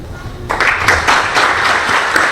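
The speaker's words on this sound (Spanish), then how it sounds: "Un aplauso." Clapping breaks out suddenly from an audience after a judge's talk and question session, a loud, close, dense round that carries on steadily without any voice over it.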